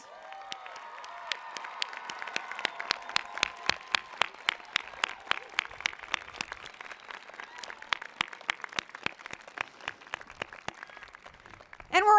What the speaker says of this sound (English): I think we should have a big round of applause for the whole class.